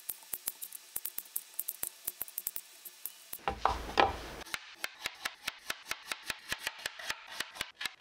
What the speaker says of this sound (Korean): 모든 채소들을 다 그냥 먹기 좋은 크기로 썰어주면 된대요